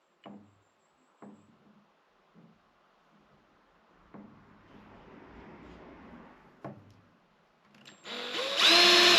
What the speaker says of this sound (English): next is to actually drill these holes